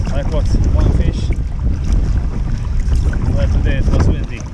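Gusty wind at a harbour during fishing buffets the microphone with loud, close low rumbling, while faint water lapping and a few high squeaks come and go.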